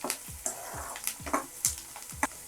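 Onions with mustard seeds and curry leaves frying in oil for a Telugu broad bean curry, a steady close sizzle broken by regular sharp scrapes and clacks of a spoon stirring the pan, with no talking.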